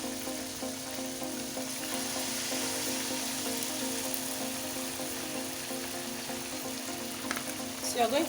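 Pancake batter fries in a pan over medium heat with a steady close sizzle throughout, and a few light clinks near the end.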